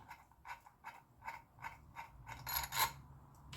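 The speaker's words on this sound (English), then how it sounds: "let me unscrew this for you and get this off of here first." Metric bolt being unscrewed on a Norton motorcycle: a rhythmic series of quick ratcheting clicks about twice a second, faint and close, ending with a slightly louder scraping rasp.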